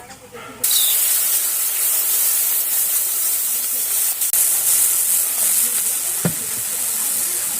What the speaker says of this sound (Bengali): আমি এবারে কড়াইতে জল দিয়ে দেব